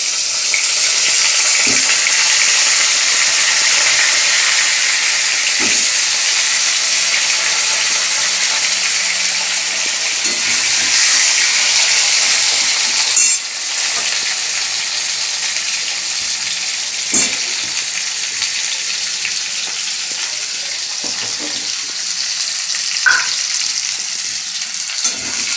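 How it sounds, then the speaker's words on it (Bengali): Meat frying in a pan, a steady bright sizzle that fills the whole clip, close and loud, with occasional soft clinks and stirring sounds breaking through. "এবার এগুলো ভেজে নিই মাংস।"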